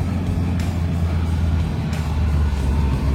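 A Volkswagen Polo youngtimer strains up a steep mountain road, its engine giving a steady, loud, low drone throughout with road noise and no talk.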